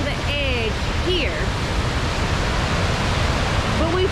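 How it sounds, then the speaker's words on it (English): Heavy, steady roar of rushing floodwater at the very top of Lost Creek Falls in Tennessee, just above a short drop and the edge, loud and continuous, with a voice talking briefly over it early on. "here's the very top of the falls, top of Lost Creek Falls. There's a short drop right there before it goes over the edge here."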